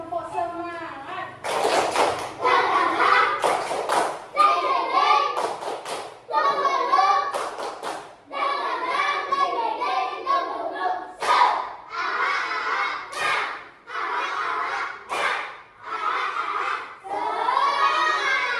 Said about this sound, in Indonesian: kita tepuk semangat dulu biar tambah semangat, biar gak ngantuk